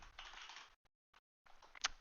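Quick bursts of typing on a computer keyboard, close and soft, with short pauses between clusters of keystrokes and no talking.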